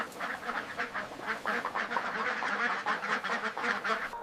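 Ducks quack in a dense, continuous chorus on a farm raising egg-laying ducks, with many overlapping nasal calls at steady volume and no pauses.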